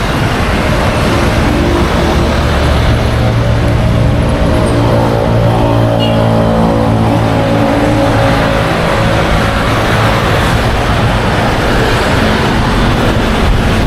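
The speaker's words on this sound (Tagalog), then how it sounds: "maingay yung mga sasakyan kasi" Loud, constant roar of road traffic beside a pedestrian walking near SM Muntinlupa, with cars and buses passing close by in a dense wash of engine and tyre noise, no voices.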